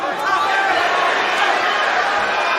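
Crowd cheering at a Cage Warriors MMA fight, a steady, dense roar of many voices filling the arena, loud and unbroken throughout.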